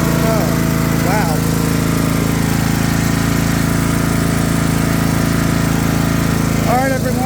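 A Craftsman LT3000 riding lawn mower runs steadily at its first startup of 2023, its engine giving a loud, even drone throughout, with someone speaking briefly near the start and end.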